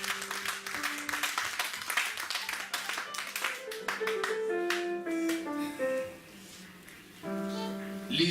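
A church congregation clapping and applauding in praise during a healing testimony service, rhythmic hand claps mixed with music tones and voices throughout.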